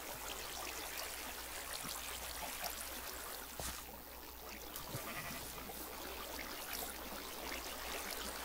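Flowing water in the Minecraft video game makes a steady, dense trickling and bubbling sound that runs unbroken throughout, with no talking.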